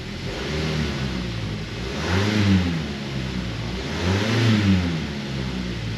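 A Mazda 3 car engine idles steadily, then revs up twice in smooth swells before settling back to a low, even idle; close and fairly loud.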